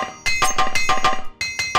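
Rapid metallic hammer clinks from equipment being repaired in the Morrowind video game, about a dozen bright strikes in quick bursts with a short pause near the end, loud and alone.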